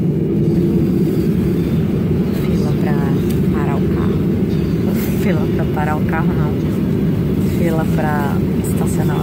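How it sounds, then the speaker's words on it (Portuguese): A jet airplane taxiing to its parking spot after landing in Miami: a steady, loud engine drone fills the whole clip, heard from inside the cabin, with a person talking over it and a few brief sharper sounds. "Pra estacionar o avião."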